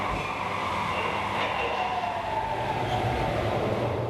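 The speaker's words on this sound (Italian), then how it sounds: "Un nuovo splendente rinnovato convoglio Metro Wagon Mash della linea M3" A Metrowagonmash metro train on Budapest's M3 line rolls along with a steady, loud rumble and faint rail squeal, the noise holding constant throughout.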